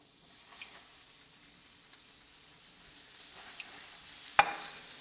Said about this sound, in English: So I'm going to come over and put the cube steaks in the pan.